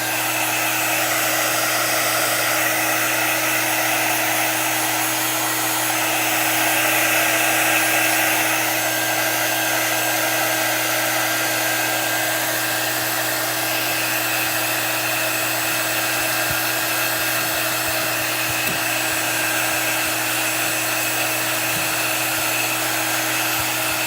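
A hair dryer blows steadily and close for the whole stretch, drying Chalk Couture paint on a stenciled patriotic stars project before it gets waxed, a constant whirring roar with a low hum beneath.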